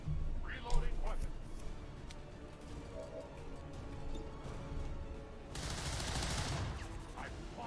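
Quiet, distant gunfire in the tactical game XCOM 2 sounds as a sharp crack early on and later a harsher, noisier burst, with speech running over much of it.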